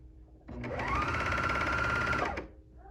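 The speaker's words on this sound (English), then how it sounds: "I'm gonna start sewing" A coverstitch sewing machine hems a circle skirt, running in one steady, close mechanical whir for about two seconds before stopping, with no talking.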